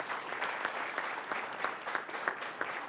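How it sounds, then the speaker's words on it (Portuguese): Steady applause from the audience at a tax administration conference panel, soft and somewhat distant, with a continuous patter of many hands and no talking. "palmas para ele"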